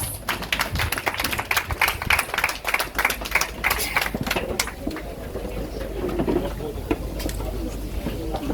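Scattered hand claps ring out in a brief round of applause for a festival queen at an Independence Day event in St Thomas, loud at first then thinning into murmuring crowd noise and a few lingering claps.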